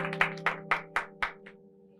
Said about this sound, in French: Si vous avez aimé, on applaudit encore.